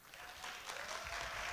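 An audience applauds at a presentation on communication for lonely elderly people, a steady, even wash of clapping that lasts throughout without a break.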